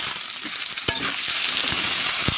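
Potatoes fry in a pan with a steady, close hiss of sizzling oil, broken by a few sharp knocks of a utensil against the pan.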